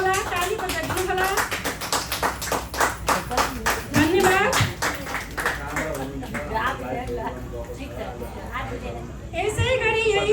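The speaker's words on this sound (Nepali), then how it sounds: "ताली बजाइदिनु होला।" Audience clapping at a Nepali community annual celebration ceremony in Dubai, a dense burst of many hands in the first half that thins out, with a speaker's voice talking over and after it.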